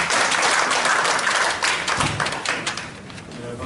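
Audience applause at a Korean National Assembly forum on cutting card merchant fees, a dense spread of clapping that swells at the start and tapers slightly toward the end, with a few thuds and what may be a voice underneath.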